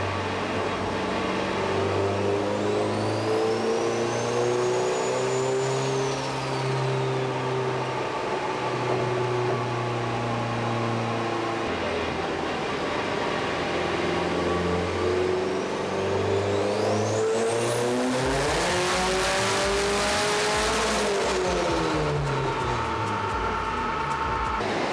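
A K24-swapped Subaru BRZ engine revs hard at wide open throttle toward about 7,800 rpm, its loud droning note climbing and falling in sweeping pulls, with a turbo whistle rising at the peaks and no voices.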